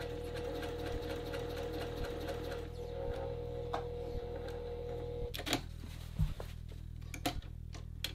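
A sewing machine stitches along the edge of a men's dress shirt, humming steadily with regular ticks up close, then pausing for clicks and handling sounds as the fabric is pivoted.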